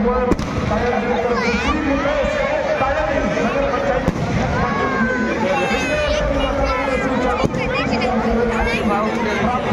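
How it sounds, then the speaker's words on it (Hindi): Fireworks and firecrackers burst continuously at a crowded Ravan Dahan festival in Pratappur, with whistling rockets and sharp cracks, including a few loud bangs, over a dense babble of crowd chatter. "यहाँ आतिशबाजी बहुत तेज हो चुका है, देख सकते हैं बहुत पटाखा फूट रहा है"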